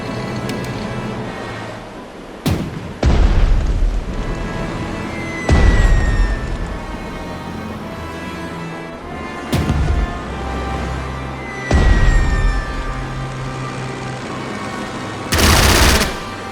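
Artillery and gunfire in the strategy game Strategic Mind: Spirit of Liberty, with sharp bursts of gunfire and heavy booms recurring every few seconds over a steady rumbling battle bed.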